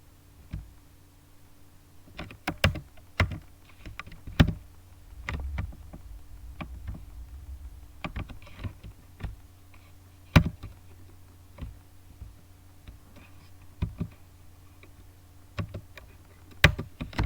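A database command is typed on a computer keyboard: scattered, irregular key clicks, close and quiet, with pauses between bursts and no talking.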